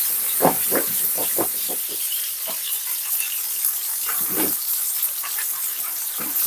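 Butter sizzling and hissing steadily in a hot pan around frying tilapia fillets, a close, continuous crackle with scattered sharp pops and spits.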